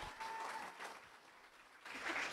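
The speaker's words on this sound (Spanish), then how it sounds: "Un aplauso, por favor, para estas bellas damas que nos acompañan en esta tarde." Applause from an audience at a university tuna and estudiantina meeting, a soft, fairly distant wash of clapping that dips in the middle and swells again at the end, with a faint tonal sound early on.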